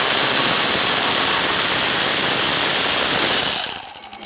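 Ratchet working loose the brake caliper bracket bolts on a 2014-2019 Kia Soul rear brake: a steady, loud mechanical buzz that carries on for several seconds, then ends in a few short clicks.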